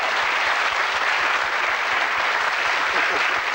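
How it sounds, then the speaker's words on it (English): A studio audience on a 1979 game show claps, dense, steady and loud applause filling the room, with a voice faintly mixed in. "Give them a round of applause, folks"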